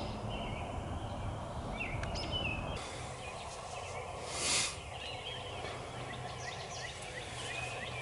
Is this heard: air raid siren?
no